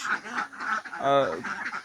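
A flock of small ducks quacks in short, overlapping bursts close by, with one louder nasal quack in the middle, alongside someone talking.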